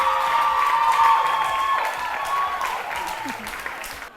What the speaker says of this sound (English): a big round of applause for Notre Dame girls